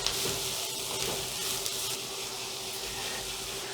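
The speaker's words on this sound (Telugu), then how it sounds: "ముందు కొంచెం లైట్గా మనం దీన్ని ఫ్రై అవనిద్దాము." Thinly sliced onions fry lightly in a pan, giving a soft, continuous crackling sizzle with a faint hum, fairly quiet and steady, and no voices.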